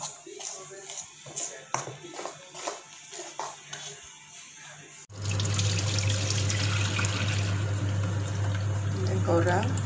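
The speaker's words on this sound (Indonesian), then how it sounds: "Letak sikit-sikit air." Water is poured little by little into banana chocolate batter for lepat pisang, first under someone speaking, then as a steady, close pouring rush.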